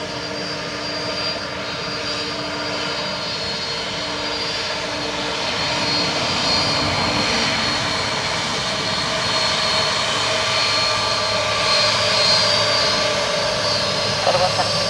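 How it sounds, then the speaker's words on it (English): A Delta Airbus A330 jet at Dublin Airport produces a steady, broad engine roar that swells gradually and holds throughout, with a voice talking over it at times. "Delta A330 from Atlanta"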